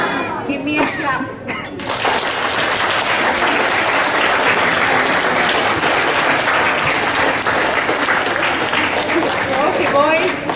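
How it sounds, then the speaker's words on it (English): Loud, dense applause from a group of schoolchildren at the end of an adolescent workshop, beginning after a brief voice and continuing steadily for about nine seconds with some cheering. "Give me a clap."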